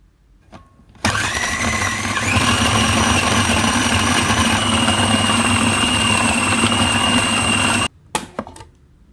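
A food processor minces beef for stick kebabs. It runs as a loud, steady motor whine for about seven seconds, then cuts off abruptly and is followed by a few clunks.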